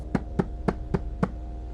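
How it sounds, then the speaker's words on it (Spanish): Five evenly spaced knocks on a door, each a short hollow thud, coming about every quarter second over a low steady hum in an indoor room. "De pronto tocaron a la puerta."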